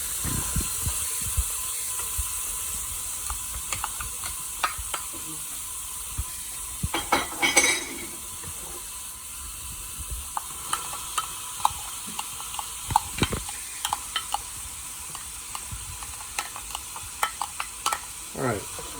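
Peppers and onions frying in a pan for a Mediterranean chicken pasta: a steady sizzle runs throughout, with utensils scraping and clicking against the pan at irregular intervals and a louder stir near the middle.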